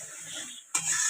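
Prawns go into a bubbling curry: a soft simmer stops, then a sudden sizzling hiss and stirring noise take over, close and fairly quiet, all within about a second.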